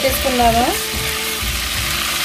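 Dry fish fries in oil in a steel pan over low heat, giving a loud, continuous close sizzle and crackle, with a brief tonal whine near the start.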